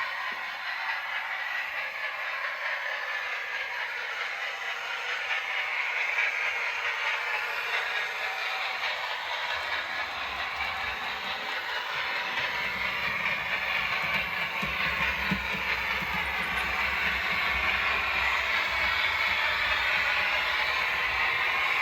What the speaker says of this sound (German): Nun fährt der Zug im oberen Schattenbahnhof in das Durchfahrtsgleis ein und hält schon langsam an.